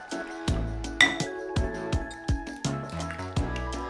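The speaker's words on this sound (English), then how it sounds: "We're gonna crack some eggs. We're gonna go 12 eggs." Eggs cracked one after another into a dish while making breakfast burritos, a series of sharp clinks and taps against glass with wet squishy drops between them, close and alone with no talk.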